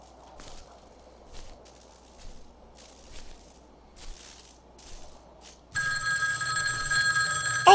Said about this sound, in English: somebody's calling me on this ghostly payphone